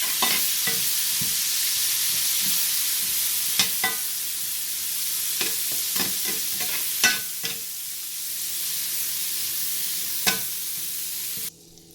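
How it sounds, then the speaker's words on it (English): Broccoli tossed and frying in a pan of garlic butter gives a soft, steady sizzle throughout. Scattered clinks and scrapes of stirring break through it at irregular moments. "In the same butter and garlic mixture, I am going to add the broccoli."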